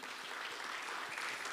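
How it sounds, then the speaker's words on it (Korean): A church congregation applauds the men's mission group during a Thanksgiving-season Sunday service, a soft, even patter of many hands clapping that sounds somewhat distant and faint, with no talking over it. "우리 남선교회를 위해서 한번 박수 한번 해줄까요?"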